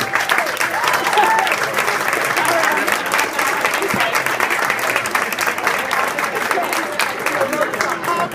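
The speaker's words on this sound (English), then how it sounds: "let's give Steve a nice round of applause." Wedding guests applaud after a best man's speech, a steady, dense wash of clapping that fills the room for several seconds with faint voices mixed in.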